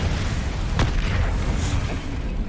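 Incendio fire spell blasting in Hogwarts Legacy, a dense, loud whooshing boom with a sharp burst near the start, filling the short stretch with no speech.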